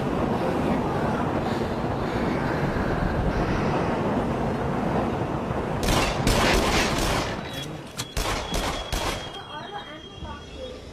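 Gunfire in the VR shooter game Rush of Blood, a burst of sharp shots in the latter half over a dense, noisy game backdrop, with a rough roaring bed throughout.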